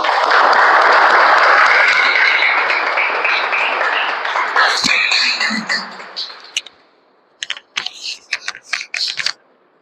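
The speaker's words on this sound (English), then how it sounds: "Please give a round of applause to Toastmaster Satyendra." Audience at a Toastmasters club meeting claps loudly for several seconds, the applause thinning out into a few scattered, separate claps before fading to quiet.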